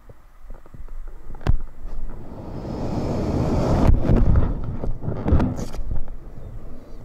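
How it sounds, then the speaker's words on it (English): Strong wind roars across the microphone during BASE jumping in South Africa, building to loud buffeting gusts midway and easing slightly toward the end, with a few sharp knocks. "Too windy."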